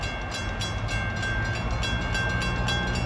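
A New York and Atlantic freight train passing close by, a loud continuous rumble with a steady high tone and rhythmic clatter of wheels over rail joints.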